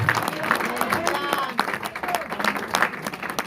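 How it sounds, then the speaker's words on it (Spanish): A church congregation claps and applauds for the Lord during a Bible teaching on being disciples of Christ, a steady wash of hand claps with voices mixed in throughout. "Denle un aplauso fuerte al Señor si lo cree"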